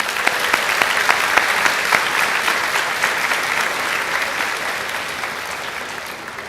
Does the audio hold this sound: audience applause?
yes